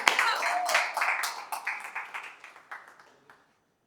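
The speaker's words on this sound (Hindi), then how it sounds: "जोरदार तालियां बजाओ। Keep clapping, keep clapping." An audience at a stage event in Nashik claps in a lively burst that thins into scattered, separate claps and fades out within a few seconds, with no talking over it.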